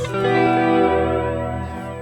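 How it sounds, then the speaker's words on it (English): A tramjet modulation effect on a distorted, high-gain guitar through the GP-200 with a stock impulse response, sustaining a loud chord that pulses and swirls steadily for about two seconds with no talking. "And the tramjet. Yeah, this one seems to be designed for distorted tones."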